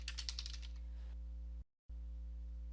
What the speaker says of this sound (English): You want to type in Control Panel